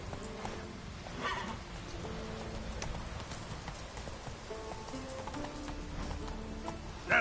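Geralt's horse Roach trotting in The Witcher 3, a steady clip-clop of hooves under a constant hiss of rain, with faint background game sounds.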